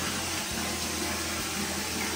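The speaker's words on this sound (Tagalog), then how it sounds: "Malakas po yung tubig, no?" Strong, steady rush of water running from a shower tap in a bathroom, a continuous broadband flow heard alone and fairly close without any voices.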